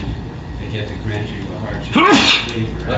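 A single sharp sneeze bursts out in the middle of a land use meeting, loud and close, with someone speaking just before it.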